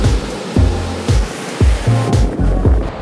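Ocean surf at Lingayen Beach in Pangasinan, Philippines, crashes loudly and close by, with steady rushing water and wind buffeting broken by repeated thumping surges about every half second.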